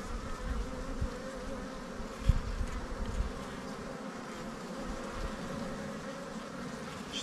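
Bees hum steadily around a beehive at a highland village pasture, a continuous close drone with a few soft knocks near the start and no voices.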